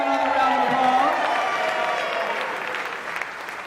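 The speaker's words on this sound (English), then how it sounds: "so give him another round" Audience applauding a performer at a 25th anniversary event for Vegas in Space, dense clapping with crowd noise while a voice talks over it, gradually thinning toward the end.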